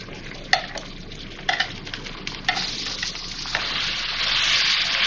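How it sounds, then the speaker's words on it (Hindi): Beef mince tipped into golden-fried onions in a hot pan, giving a steady sizzle with a few sharp clatters and scrapes of stirring that build into a louder, continuous hiss. "अब मैं इसमें कीमा डालूंगी।"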